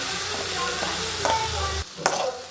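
Vegetables with salt, turmeric, chilli powder and coriander powder fry in a pan for a vegetable pulao, with close scraping stirs over a bright sizzle that cuts off abruptly near the end.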